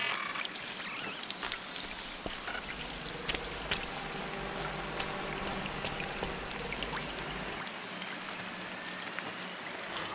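Water moves steadily in a LIDAR horror video game, a constant trickling, pouring wash with faint splashy detail that carries through the whole stretch without any voices.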